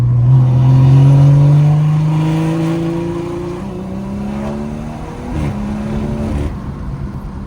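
A BMW 340i accelerating hard under building boost from third gear, its engine note rising steadily and loud from inside the cabin, then easing off before climbing again through a shift.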